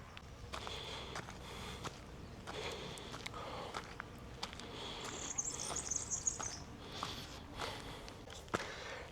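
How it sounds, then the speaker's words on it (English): Small birds chirp and tweet in a quiet forest park in Malaga, brief faint calls scattered among soft rustling and footsteps, with a short high trill partway through. "It's just a nice little forest park. Nothing fancy, no incredible gardens, but it's quiet. You can hear the birds,"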